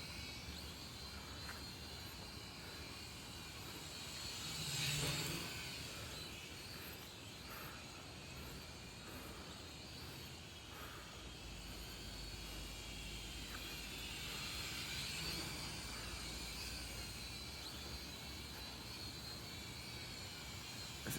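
A Blackhawk SQ800C manual drone flies overhead, giving a steady broadband whir that swells as it passes close around the fifth second, then fades and rises again more faintly later, with outdoor ambience and no speech.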